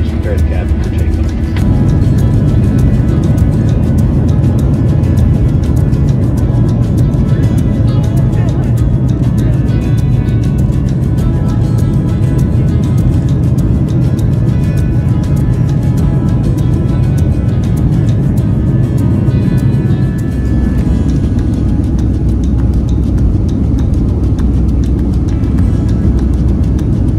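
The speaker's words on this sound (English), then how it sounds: "Flight attendants, please prepare the cabin for takeoff." Jet airliner engines roaring steadily through a cabin during takeoff, a loud continuous rumble that holds for the whole stretch, with a brief shift in tone near the start.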